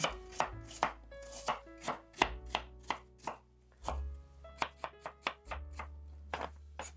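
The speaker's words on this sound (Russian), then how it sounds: "И режу яблоки средними кусочками." A knife chops steadily through apples into medium pieces on a cutting board, each crisp thud landing in a quick uneven rhythm, close up and quiet.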